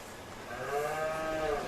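A cow moo sound effect played at a high school softball game, one drawn-out bovine moo lasting over a second against steady crowd ambience.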